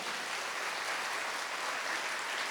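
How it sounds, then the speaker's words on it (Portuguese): Congregation at a Catholic mass applauding together, a dense, steady wash of many hands clapping for the full stretch with no voices over it. "então aplauda para valer."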